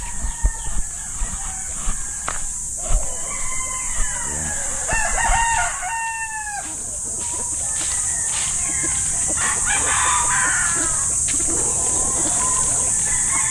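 Backyard chickens cluck and a rooster crows while being fed, with scattered close squawks and calls early on, then a busier flock murmur under a steady high insect-like hiss; someone talks at times.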